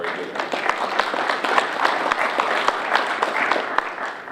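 At a Rotary Club luncheon in Marion, Ohio, the audience breaks into brisk applause, with sharp individual claps standing out over a steady wash for about four seconds.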